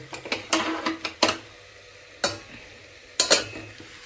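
Cumin seeds sizzle and crackle in hot oil as tempering for dry potato curry, with several sharp stirring scrapes and clatters against the pan, close by and without talk.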